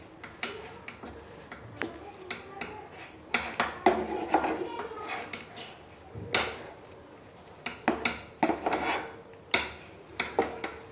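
Kurkure ingredients being mixed in a bowl after the gas is switched off, with irregular scraping, rubbing and clinking of a utensil against the bowl that comes in bursts and short pauses.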